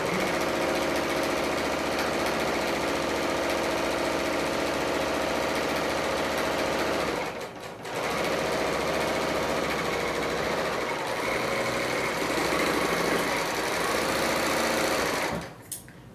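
A Bernina L890 serger runs steadily while stitching pillowcase seams, a loud continuous mechanical whir with a brief pause near the middle before it stops toward the end.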